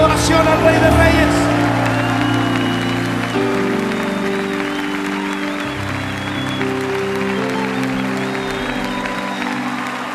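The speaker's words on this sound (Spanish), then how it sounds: "levante un aplauso de adoración al Rey de Reyes" An audience at a Christian men's campfire gathering applauds steadily, the clapping blending with crowd noise and sustained musical tones, with voices heard through it.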